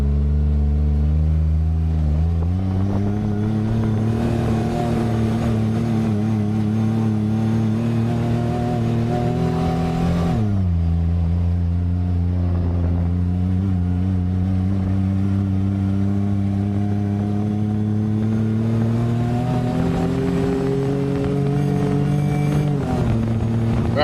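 A Ford Maverick truck, two-wheel drive with a transmission tune, accelerates hard through its gears, the engine note climbing steadily then dropping at each upshift around 2 and 10 seconds, loud and close with no talk.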